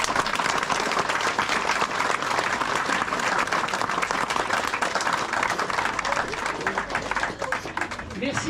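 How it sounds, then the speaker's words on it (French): Audience applause at the Saint-Roch festival in Saint-Julien-du-Verdon, steady dense clapping from a crowd that carries on for several seconds. "Je pense qu'il mérite nos applaudissements."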